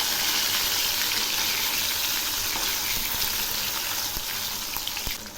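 Rohu fish pieces fry in mustard oil in a kadai after being turned over, giving a steady, close sizzle with a few soft clicks and knocks and no talk.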